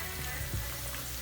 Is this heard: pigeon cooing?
no